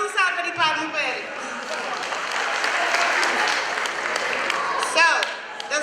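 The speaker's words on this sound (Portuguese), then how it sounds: "mais um salve de palmas para ele" At a Cape Verdean cultural night, a crowd gives a performer a strong round of applause. The clapping is sustained and dense, with cheering and voices mixed in throughout.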